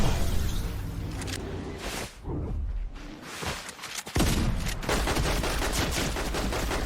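Video game gunfire, rapid bursts of shots and loud cracks, dense and close with a brief lull midway before firing resumes, no talk.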